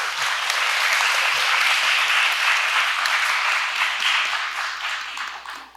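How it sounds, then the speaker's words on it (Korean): Loud, dense audience applause at a literary festival event in Seoul carries steadily for several seconds and fades slightly at the end, with no talking over it. "여러분 큰 박수 부탁드립니다."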